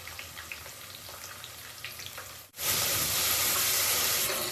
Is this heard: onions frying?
yes